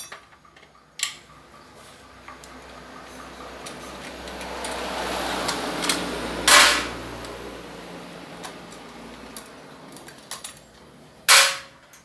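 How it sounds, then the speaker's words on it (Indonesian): Metal wrenches, 10 mm and 8 mm, loosening bolts on a scooter CVT housing during servicing: scattered sharp ticks and clicks with a few louder metallic clacks near the end, over a low steady background hum. "Di sini saya menggunakan kunci P10 dan 8 ya."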